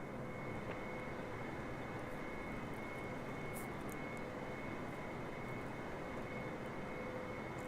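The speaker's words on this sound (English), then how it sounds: "Boeing 747 cleared to land runway 31." Boeing 747 jet engine in a flight simulator game, a steady, even roar with a thin high whine running throughout, holding at a moderate level from start to finish with no talk.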